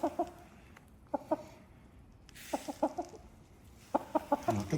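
Meat chickens on a farm clucking in short clustered bursts of two or three calls, fairly close and clear over quiet background.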